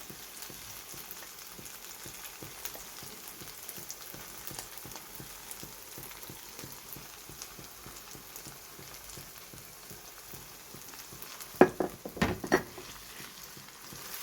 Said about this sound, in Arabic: دابا غادي نزيد ليها المطيشه